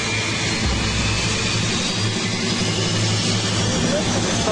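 Jet engines run close to an airport perimeter fence in a loud, continuous roar that fills the whole stretch without letting up, with a low rumble beneath a broad hiss and no clear talk.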